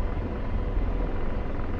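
Helicopter hovering in a co-op video game, a steady, dense low rotor rumble filling the short stretch at constant loudness with no voices.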